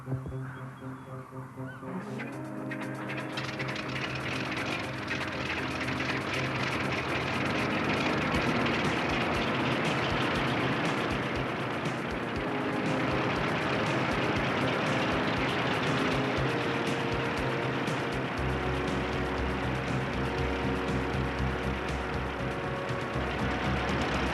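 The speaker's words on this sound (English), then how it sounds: "I'm about to start the engine." A loud early airplane engine starts, then rumbles and drones continuously, with a low throbbing beat and a harsh, noisy roar that builds and holds steady.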